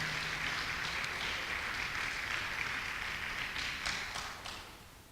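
A church congregation applauds for the Lord during a sermon, a sustained wash of many hands clapping that holds steady, then tapers off and fades toward the end.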